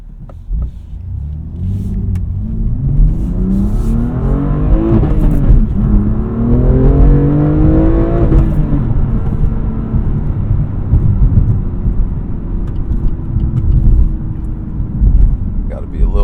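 A BMW sports car accelerates hard, its engine note climbing through the revs and dropping at each gear shift, then settling into a steady, loud rumble close by.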